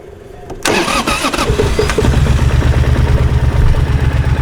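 A starter whirs briefly, then a 2010 Triumph Thunderbird motorcycle engine catches and settles into a steady, rumbling idle, close and loud.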